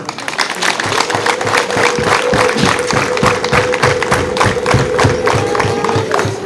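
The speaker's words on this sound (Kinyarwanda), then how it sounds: "mumfashe tubahe amashyi n'impundu" Steady, dense clapping from a crowd at a church jubilee celebration fills the whole stretch, with a sustained high trilling ululation running through it.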